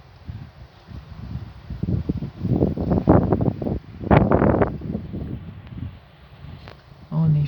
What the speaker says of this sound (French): du vent se lève en plus de ça.